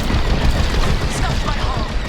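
Heavy, continuous weapons fire in a space battle game, a loud rumbling wash of rapid cannon bursts and booms blending together over a couple of seconds.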